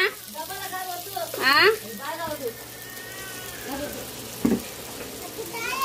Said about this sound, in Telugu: కారం వేసేసుకొని టేస్ట్ సరిపడా సాల్ట్ వేసుకొని చికెన్ ముక్కలు కలిపేసుకుంటే